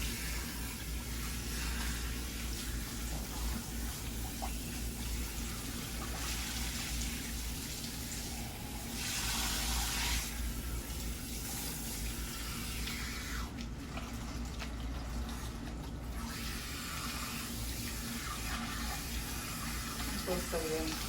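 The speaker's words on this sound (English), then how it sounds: "rinsing out." Tap water running steadily in a salon basin while hair is rinsed out during an herbal treatment, a constant close hiss and splash with soft shifts as the stream hits hair and sink.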